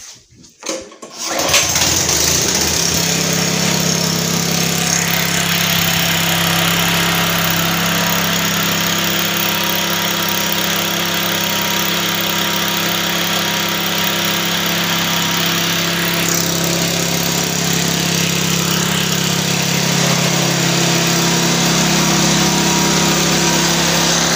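A Wolf URK petrol scarifier with a Kawasaki FAD76D engine starts after a brief rattle of pulling and then runs steadily, a loud, close, constant engine drone with no talk.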